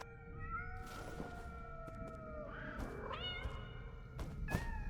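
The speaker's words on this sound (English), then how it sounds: "Cats!" Cats in the video game Nine Sols meow in long, drawn-out cries, several overlapping calls rising and bending in pitch over a low background hum, with a couple of soft thuds and no talk.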